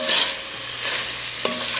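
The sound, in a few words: turkey tenderloin pieces browning in a hot pan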